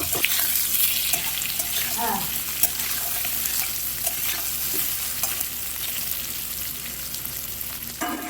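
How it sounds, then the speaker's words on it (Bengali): Paneer pieces frying in white oil in a pan with a little salt added sizzle loudly and continuously up close, with intermittent scraping and stirring clicks scattered throughout. "এখানে আমি স্বাদ অনুযায়ী নুন দিয়ে দিচ্ছি পনিরে একদম অল্প করেই দিয়ে ভালো করে আবার একটু ফ্রাই করে নেব"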